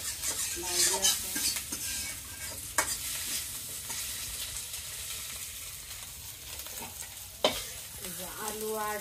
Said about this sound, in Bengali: আগে ভেজে নিলাম, ভাজলাম ডিম।